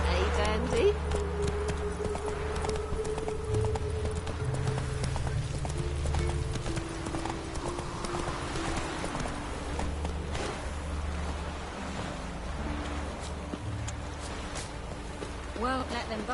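Hoofbeats of Geralt's horse Roach in The Witcher 3, a steady clip-clop running through the whole stretch at close range, with voices and a low game soundscape underneath.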